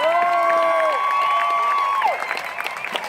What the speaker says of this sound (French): On peut l'applaudir bien fort, il vous entend, on a broché la radio, faites du bruit